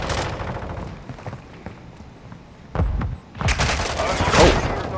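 Gunfire crackles in Call of Duty: Modern Warfare II Domination multiplayer, with scattered shots at first and then loud, close bursts of rapid fire. A voice is heard over the shooting.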